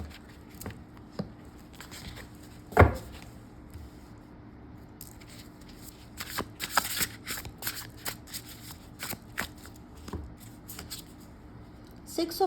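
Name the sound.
shuffling and handling tarot cards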